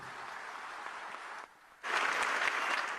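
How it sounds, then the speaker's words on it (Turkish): Audience applause at a Turkish political party gathering: dense, steady clapping that dips briefly midway, then swells louder and fuller to the end, with no voices over it. "ona büyük büyük kocaman bir alkış istiyorum"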